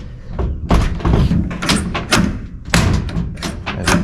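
The door of a 1959/1960 Cadillac, newly fitted with weather strip and stiff to close, produces loud nearby thumps and rattling knocks, several in a row, with muffled handling noise between them.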